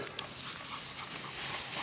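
A dog whimpers softly in a couple of brief high cries at the start of an outdoor walk, faint against quiet background noise.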